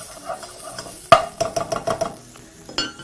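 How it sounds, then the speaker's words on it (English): Ginger and garlic being stirred in a frying pan for egg curry, a sharp scrape of a utensil followed by a run of quick clinks against the pan over a faint sizzle. "Now we're going to proceed to begin by frying those very, very quickly on your pan."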